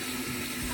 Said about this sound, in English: So I'm getting that water directly on this tap now